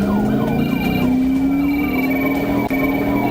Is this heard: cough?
no